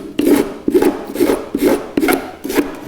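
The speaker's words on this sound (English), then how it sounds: "take your scraper or your rasp" A rasp scrapes cured fiberglass inside a wooden kayak in about six firm, rhythmic strokes, each a close, gritty rasp with short pauses between.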